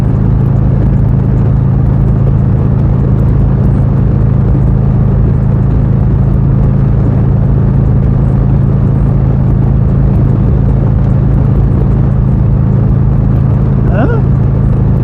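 A 2019 Harley-Davidson Tri-Glide motorcycle rides on the road, giving a loud, constant low engine rumble with steady wind noise throughout. A brief higher sound appears near the end.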